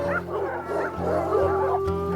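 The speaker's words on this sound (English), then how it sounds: "I could hear the dogs." Dogs barking repeatedly in an audio drama scene of a night chase by slave hunters, steady rhythmic barks and yips with a low droning bed underneath, fairly loud and close, no talking.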